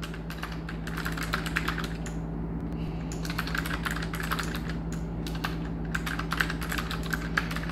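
Rapid, continuous typing of code on a computer keyboard, close and clicky in uneven bursts with brief pauses, over a low steady electrical hum.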